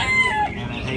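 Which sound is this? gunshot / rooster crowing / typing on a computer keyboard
rooster crowing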